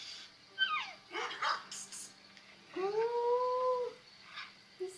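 Dog barking and howling in a TV drama episode, with a few sharp barks followed by a longer drawn-out howl, fairly close and clear, with no talking over it.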